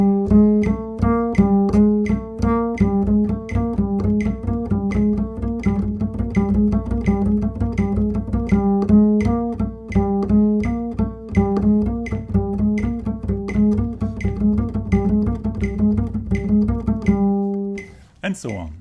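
An upright bass plays a left-hand warm-up exercise in thumb position, a steady stream of plucked notes in an even rhythm, close and resonant, with no talking until a final held note.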